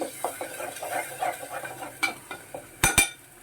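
Ginger paste goes into a frying pan while fish and prawn curry is cooked: a low sizzle under scraping and stirring, with light spoon clicks against the pan and two sharper metallic knocks near the end.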